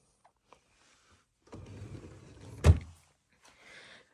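A yarn drawer in a sewing and craft room slides open with a brief rolling scrape that ends in a single soft thunk, followed by faint rustling.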